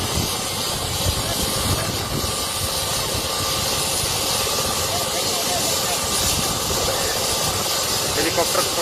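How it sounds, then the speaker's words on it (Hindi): A helicopter engine whines and hisses steadily with a dense rotor rumble, a continuous moderately loud drone that stays constant throughout. "हेलीकॉप्टर सवार हो चुके हैं हनुमान"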